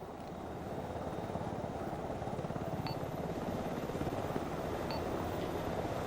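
A helicopter in the video game Arma 3 runs steadily throughout with a continuous, close rotor thrum at constant loudness, joined by a couple of faint high chirps.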